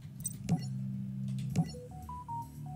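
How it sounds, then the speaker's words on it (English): A phone notification plays over steady video game background music, with a couple of sharp clicks followed by short, clean electronic tones in a rising then falling pattern, fairly faint and alone without speech. "Sorry, that was my phone."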